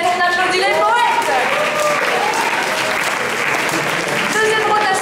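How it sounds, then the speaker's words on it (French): An audience at a collective slam poetry competition applauds the poets after their scores, with sustained dense clapping running throughout and a voice talking over it. "On applaudit les poètes."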